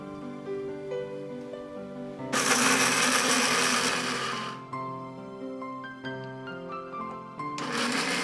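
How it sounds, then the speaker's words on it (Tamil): A mixer grinder grinds dry ginger with a little salt into a coarse powder. Two loud whirring bursts, the second cut off at the end, rise over quieter background music. "இப்போ நம்ம இதை கோர்ஸ் பவுடராக பொடி பண்ணிக்கலாம்"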